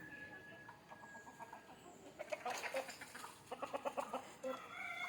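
Native country chickens cluck in the morning around an opened coop, a faint call early on, then a run of quick, rhythmic clucks and squawks building in the second half.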